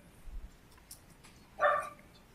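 A dog gives one short sharp bark during an online board meeting, preceded by faint scattered noises and otherwise quiet.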